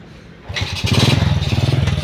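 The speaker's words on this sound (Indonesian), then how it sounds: "Iso nyelah ora iki jane." A motorcycle engine catches after a kick-start and settles into a steady, loud, pulsing idle at close range, rising from a quiet start with no talk over it.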